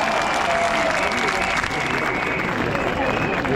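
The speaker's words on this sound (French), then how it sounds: "Un immense applaudissement pour Claude." Crowd applause at an outdoor protest in Paris supporting farmers, a dense, continuous roar of clapping mixed with crowd murmur, loud and steady from start to end.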